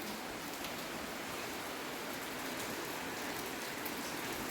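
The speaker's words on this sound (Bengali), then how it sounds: "বৃষ্টি পড়ছে" Light rain falls steadily outdoors, a soft continuous hiss of drops on surfaces that stays even and unbroken throughout, with no voices.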